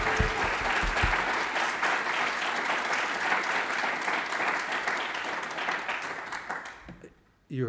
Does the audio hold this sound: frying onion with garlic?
no